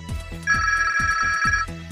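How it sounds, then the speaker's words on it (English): A big-button mobile phone's extra-loud ringer sounds alone and close: a bright electronic ringtone pulsing over a repeating low beat. "An extra loud ringer and visual ringing alert mean that you will never miss a call."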